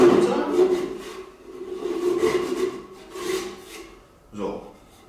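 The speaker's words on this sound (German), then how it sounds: "Das wäre mein erster Sägeschnitt." A hand saw cuts through a wooden workpiece, its steady back-and-forth rasping strokes close and rhythmic over several seconds, alone without talk, tapering near the end.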